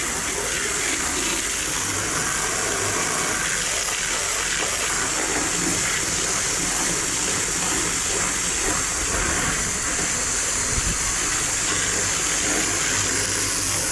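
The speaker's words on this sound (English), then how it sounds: "when I'm done washing this guy out." Water washing out a harvest hopper outdoors, a steady broad rushing spray that runs continuously at moderate loudness with occasional low knocks and no pauses.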